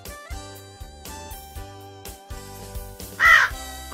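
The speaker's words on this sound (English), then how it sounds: "Crow." A crow gives a single short, harsh caw near the end, bright and fairly loud, standing out above steady background music.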